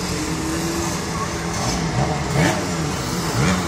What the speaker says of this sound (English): Two stroke engine, all good, all decent, bloody gorgeous.